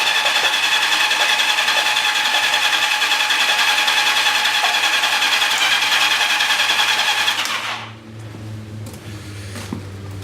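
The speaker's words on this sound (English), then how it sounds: "So now I'm going to come along and just crank the engine, again at full throttle." A loud, steady engine cranking drone with fast rhythmic pulsing runs for about eight seconds, then cuts off, leaving a quieter low hum. A Yamaha XJ650 motorcycle engine cranked at full throttle with all spark plugs removed, treated for sticky valves.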